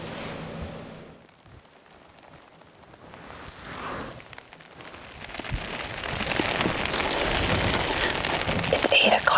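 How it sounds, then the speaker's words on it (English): Heavy rain pours steadily around a bear-hunting bait site in the Saskatchewan woods under overcast skies, the dense patter thinning briefly before building into a loud, continuous downpour. "It continues to rain."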